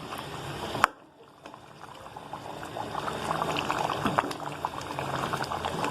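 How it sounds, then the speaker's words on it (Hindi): Beef mince keema with potatoes simmering in a pan as the added water cooks off, a steady close bubbling and sizzling that starts with a sharp clink and builds gradually louder. "ये थोड़ा सा पानी है, इसको मैं हल्का सा सुखा दूंगी।"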